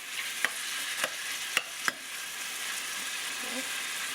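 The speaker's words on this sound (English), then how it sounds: "And then to our pan, we're going to add our cut up pork." Cut-up pork frying in canola oil in a pan, giving a steady broadband sizzle with a few sharp clicks of the pan or utensil spaced through it, close and moderately loud.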